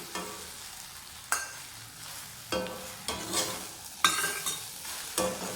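Raw banana slices with garlic and curry leaves cook in a pan, giving a soft steady sizzle broken by several sharp stirring scrapes, close and alone with no voices.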